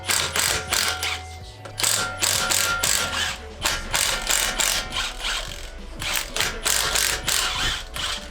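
Close, loud ratcheting from a hand tool loosening the wheels on an Infiniti G37, its clicks coming in rapid repeated bursts with brief pauses between strokes.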